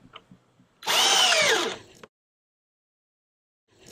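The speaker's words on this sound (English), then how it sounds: "So we either cut the corners of the bottom here or drill holes in each corner." A power drill bores a drain hole in the wooden floor of an American kestrel nest box, one loud whine lasting just over a second, close up, followed by near silence.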